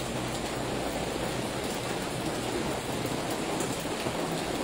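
Steady rain falls while walking through the hillside tourist town of Jiufen, Taiwan, a dense, even hiss of drops with low rumble underneath, constant and fairly close throughout.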